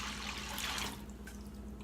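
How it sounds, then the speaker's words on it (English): Water flows steadily into a stock pot holding split peas and chicken stock, a soft, faint continuous pour that tapers off slightly after about a second, with no voices. "And to that, we will add the same amount of water."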